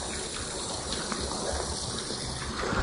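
Steady rushing water pours into containers set out for tomato plants, a continuous broadband gush with a faint hiss, close by and unbroken for the whole stretch, with no voices.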